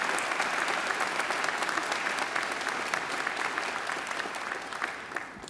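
A graduation audience gives a sustained round of applause for alumni volunteers at a ceremony, steady and dense across the whole stretch and easing slightly toward the end.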